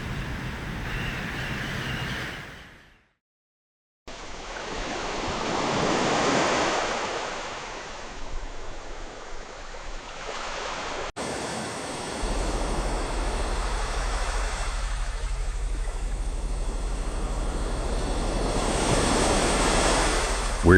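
Ocean waves and surf roll across open water in the Southern Ocean, where a cargo aircraft has just ditched. The wash is loud and steady, with a brief dropout near the start, wind noise on top, and no voices.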